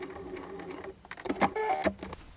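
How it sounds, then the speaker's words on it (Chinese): Sewing machine stitching along the edge of a foldable fabric tote bag, a close mechanical whirring with a brief dip partway through before it speeds up again. "然后直接沿着边来缝，顺便把刚刚反折的地方也固定。"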